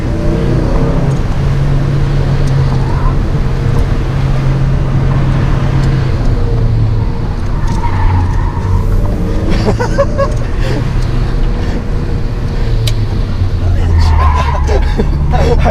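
Mazda Miata NB pushed hard down a canyon road, a steady engine drone with tyre scrub and squeal under heavy braking, heard from inside the car with some talk over it.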